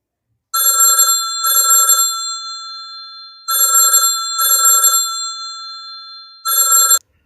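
An old-style telephone rings in a staged farm drama, three bursts of double rings with silent pauses between, loud and clear with no talking over it.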